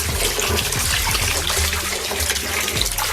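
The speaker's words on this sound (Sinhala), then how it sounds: "මේක දියර පොහොරක් විදිහට තමයි දාන්නේ ගහ මුලට" Liquid fertilizer solution poured onto the soil at the base of chili plants, a steady close trickle and splash running continuously without talk.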